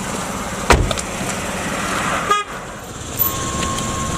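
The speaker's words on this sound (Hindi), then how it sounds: "इतनी देर से हॉर्न बजा रहे हैं," A car horn gives a sharp short toot, followed by a second longer honk with a buzzing tone over steady traffic noise on an Indian street, and a faint thin tone lingers afterward.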